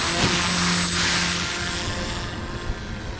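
A paramotor's engine and propeller run at launch with a loud, steady buzzing drone that eases slightly in throttle and stays close throughout.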